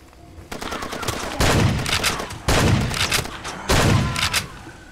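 Bursts of automatic gunfire in Far Cry 2 come in three loud volleys of rapid shots, each sharp and close, with brief quieter gaps between them.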